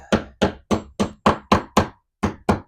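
Hammer blows driving staples into a dresser's backboard, nine sharp whacks in a steady rhythm with a short pause before the last two, close and loud with no talk.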